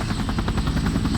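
A UH-1 Huey helicopter thuds steadily overhead, its rotor chop pulsing rhythmically under a dense roar, loud and close for a brief moment.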